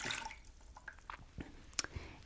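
Lukewarm water, one cup, goes into a mixing bowl while making fresh milled flour rolls. It comes across as soft, scattered drips and small splashes, close and fairly quiet, with no talking.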